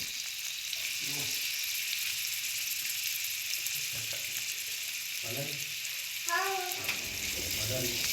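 Onions and curry leaves frying in hot oil for a snapper banana-leaf fry, a constant hissing sizzle with a few faint stirring knocks and brief muffled sounds mixed in.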